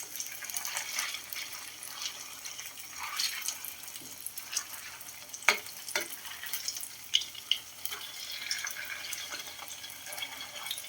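Kwek kwek, quail eggs in a wet batter coating, frying in hot oil with a steady close sizzle and crackle, broken by occasional stirring clinks and sharper pops.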